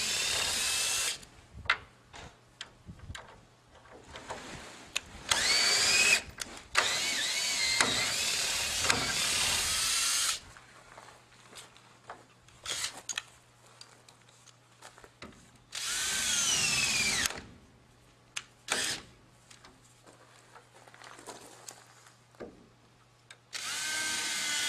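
A power drill clears out holes in dock saddle stringers for lag bolts, with repeated close whirring bursts of several seconds each, separated by pauses and handling clicks, and no talk.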